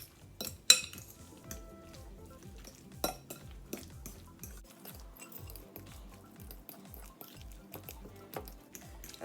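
A fork mixes deviled egg filling in a bowl, giving a run of quiet, rhythmic clinks and scrapes against the dish with a soft wet squish between strokes, close and fairly faint.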